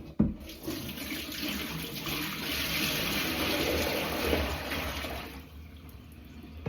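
A sink full of washing-up water drains away in a steady, loud gurgling rush that holds for several seconds, then thins out and fades near the end.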